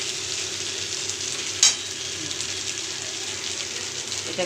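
Muri ghonto, a Bengali fish-head and rice dish, sautés on high flame with a steady close sizzle and one sharp clack partway through, no talking.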